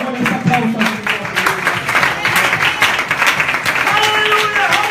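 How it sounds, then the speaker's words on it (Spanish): Church congregation applauding during a bilingual Spanish-German sermon at a Zurich church, steady dense clapping throughout with voices mixed in. "Démosle un aplauso a Jesucristo"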